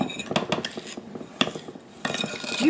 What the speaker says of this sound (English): And let's stir this one up.